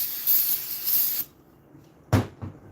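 Brake cleaner sprayed from an aerosol can in a garage, heard as about a second of loud hissing. Short clicks and knocks from handling the can follow.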